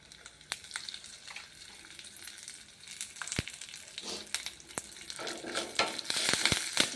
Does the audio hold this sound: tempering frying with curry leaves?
yes